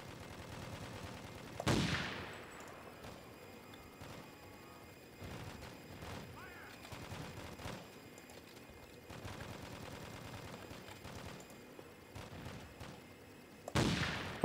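Gunfire in the video game Boiling Point: Road to Hell during house-to-house combat, with two loud close shots near the start and end and fainter scattered shots and bursts between them.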